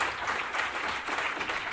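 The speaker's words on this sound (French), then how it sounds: "On peut l'applaudir." An audience at a Rubik's Cube magic performance gives a volunteer a short round of applause, a dense, even patter of many hands clapping at moderate volume.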